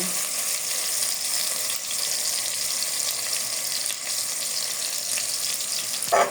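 Onions frying in a pan, a loud, steady, close hiss and crackle of sizzling oil that holds evenly throughout, with a brief clatter at the very end and no voices.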